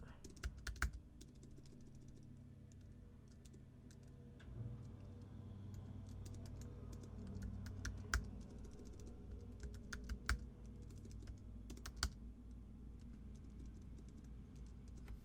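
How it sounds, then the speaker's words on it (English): Computer keyboard typing during a gaming session, with steady clusters of key clicks against a low background hum, fairly quiet and close. "we're gonna do some typing in"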